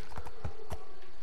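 Horse hooves in Minecraft, a few soft, low hoof thuds in an uneven clip-clop rhythm, close by with a faint steady hum beneath and no voices.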